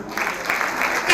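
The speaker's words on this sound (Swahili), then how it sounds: "Makofi yangu tafadhali." Audience applause at a Swahili-language show, a short steady burst of many hands clapping that fills the whole moment, with a slight swell near the end.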